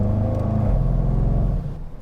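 A Range Rover Sport SVR with an 8-speed automatic kicks down on a paddle shift in dynamic mode, its engine revving loud and close in a steady, rich rumble that drops in pitch near the end.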